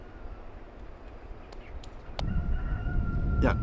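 Free-range chickens on a farm, some 7,000 birds, are heard as short clucks and a sharp call over a low background rumble that swells in the second half.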